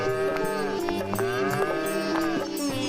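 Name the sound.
bulls mooing in cartoon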